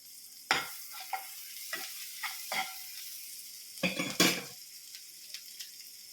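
Chopped ginger tossed into a sizzling pan for chilli chicken, with a soft frying hiss broken by several sharp scrapes and clatters of the spoon against the pan, two louder ones close together near the end.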